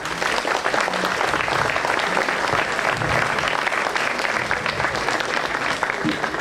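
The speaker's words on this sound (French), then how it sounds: "Vous pouvez l'applaudir." Loud, dense applause fills the room as an audience at a conference claps for a speaker, Lili Leignel, sustained and even throughout with faint voices beneath.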